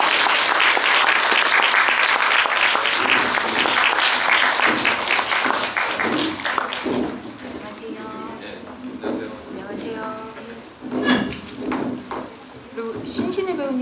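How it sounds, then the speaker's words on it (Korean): A cinema audience at a film talk event applauds the director and cast. Loud dense clapping for about seven seconds fades to scattered claps as a presenter begins speaking over it. "박수를 다시 한번"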